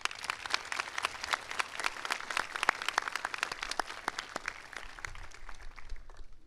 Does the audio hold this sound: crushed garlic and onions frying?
no